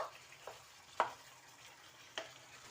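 Chicken pieces stirred in a pan of cooked-down spices, heard faintly as a low sizzle with a few sharp spatula scrapes and knocks spaced out across the moment.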